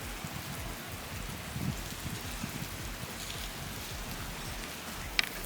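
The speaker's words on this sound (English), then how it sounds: "it's just a bunch of rain, a bunch of cold rain at that" Steady cold rain falling outdoors during a snowstorm, a soft continuous patter of drops on surfaces, fairly faint and even, with no talking.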